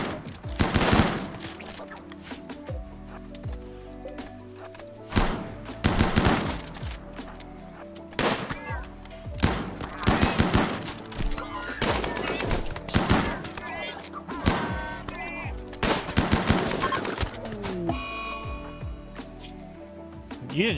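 LMG machine gun fire in RimWorld, repeated short rattling bursts scattered over the stretch with gaps between volleys, mixed with game effects and a voice talking.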